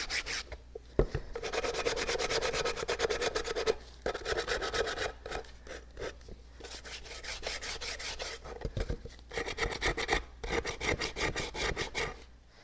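Glossy black painted furniture is sanded by hand to distress it, with bursts of rough, raspy rubbing strokes that repeat in quick rhythm and are broken by short pauses. The sanding is close and loud, with no talking.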